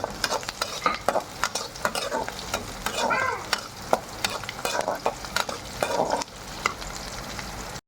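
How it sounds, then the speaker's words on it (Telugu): Onions and sliced green chillies frying in oil in a pan, with steady crackling sizzle and repeated sharp scraping and stirring clatter throughout, fairly close and clear, no talking. "అవి ఇవి బాగా వేగాలి"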